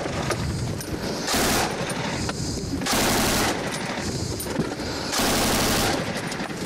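Long bursts of automatic gunfire fired into the space ahead in rainy weather, three sustained loud bursts separated by short gaps, close to the listener against ongoing background noise.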